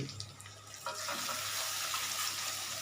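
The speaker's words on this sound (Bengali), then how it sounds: "আমি গরম জল দিচ্ছি" Hot water pours into a cooking pot with fish bone curry on the stove, a rushing, splashing stream that starts softly and swells louder after a moment, continuing steadily.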